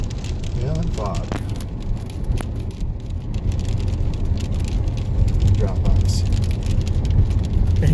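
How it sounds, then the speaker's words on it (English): Hail patters and crackles steadily on a car driving down a mountain road in fog, a dense wash of impacts over engine rumble, growing slightly louder. "Got some good hail going on."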